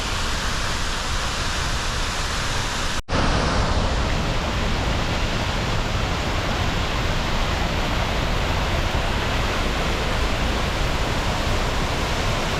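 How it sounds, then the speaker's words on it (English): A 22-foot waterfall in Waterfall Garden Park, Seattle roars as a loud, dense, steady rush of falling water, with one brief dropout early on and then unbroken sound. "The waterfall gives a cool and calming effect."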